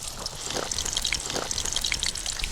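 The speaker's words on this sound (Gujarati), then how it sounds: "પહેલા રીંગણા આપણે ફ્રાય કરી લેશું" Eggplant pieces frying in hot oil in a pan, a steady close sizzle and bubbling hiss without a break.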